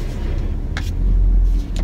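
A car reverses out of a parking space beside a trailer, its engine giving a low, steady rumble with a swell of rising drone toward the end.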